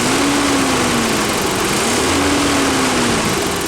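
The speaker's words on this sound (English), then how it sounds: "totally stock engine" A totally stock 1993 Toyota engine with original miles runs steadily and close, a continuous droning hum with a slowly wavering pitch and no voices over it.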